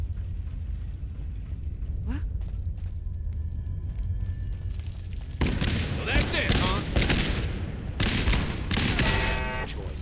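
Rapid bursts of automatic turret gunfire from the game Fallout 4 crackle loudly over a constant low drone, growing denser and harsher partway through, with scattered impacts and a voice now and then.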